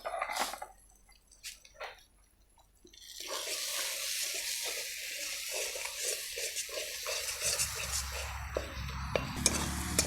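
Cumin and coriander powder, Kashmiri chili powder and salt are fried and stirred in oil for paneer butter masala. A few scattered clinks and knocks come first, then a steady, close sizzling hiss with stirring scrapes runs to the end.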